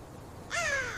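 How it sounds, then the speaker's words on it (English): A crow gives a single harsh, drawn-out caw, close and clear, after a moment of quiet background. "crow"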